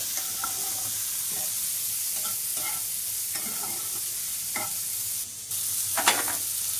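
Fig chutney with turmeric and chilli powder is stirred in a pan, a spatula scraping at irregular intervals over a steady hiss of cooking. It is close and alone, with no voices.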